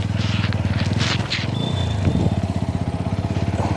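A borrowed motorcycle idles close by with a fast, even engine putter, a brief clatter and scrape breaking in partway through while the pulsing exhaust runs on steadily.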